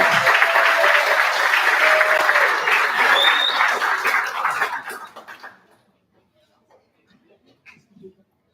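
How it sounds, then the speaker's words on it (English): A demo-day crowd claps for a product team, a full burst of applause that fades out after about five seconds into near silence with a couple of faint stray sounds. "Let's give them a round of applause."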